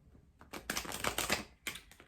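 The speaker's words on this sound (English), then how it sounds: "we're shuffling the cards to get a reading" Quick bursts of tarot card shuffling, papery riffles and slaps that crowd together at the start and then flare again briefly near the end, close to the listener.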